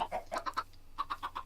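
Chickens in the video game Minecraft cluck in a quick run of short, clear clucks, a pause, then another burst of several clucks, fairly close and alone with no talk.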